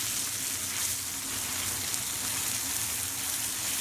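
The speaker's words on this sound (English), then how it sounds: "And we're just going to let this sauce cook for about a minute." Steak simmering in a tequila lime marinade in a pan makes a dense, even, close sizzle like rain on a surface, steady throughout with no talking.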